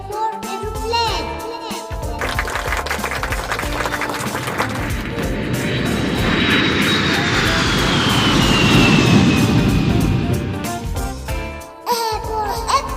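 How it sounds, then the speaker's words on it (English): An aeroplane flies overhead with a loud, swelling engine roar that builds and then fades over several seconds, framed by light music at the start and end. "A for aeroplane."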